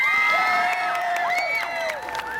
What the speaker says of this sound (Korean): 여러분, 흥겨운 무대니까 다시 한번 박수 주시기 바랍니다